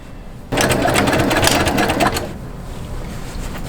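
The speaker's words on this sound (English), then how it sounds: "And then I will stitch in the ditch right here along the edge." Sewing machine stitching in the ditch along a quilt binding edge, a loud close steady mechanical whir that starts abruptly, runs for about two seconds, then slows and softens into a lower hum.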